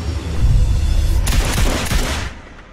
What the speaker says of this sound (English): Shots fired in the embassy.